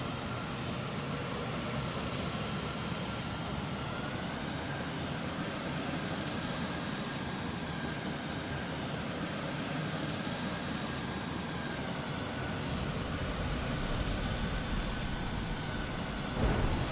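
Steady aircraft engine drone from the video game Carrier Command 2, a continuous even jet-like roar with a high whine that shifts pitch slightly partway through, filling the whole stretch with no talking.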